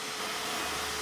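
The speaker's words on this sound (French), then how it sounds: "Commencez par passer l'aspirateur." Vacuum cleaner running while a staircase is cleaned, a steady broadband roar and hiss, close and continuous with no pauses.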